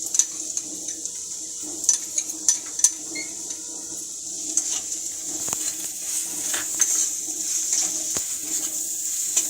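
Ginger garlic paste and green chillies fry in a pan for egg devil, giving a steady soft sizzle with scattered stirring scrapes and clinks throughout.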